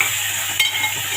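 Tomatoes sautéed in a pan give a loud, close, steady sizzle with one brief scrape of a spoon in the middle, no voices over it.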